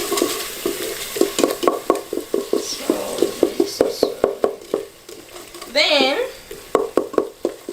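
A fish stew with green pepper and salt being stirred in a pot, heard as steady scraping strokes in a regular rhythm over a soft sizzle, with a voice speaking over it.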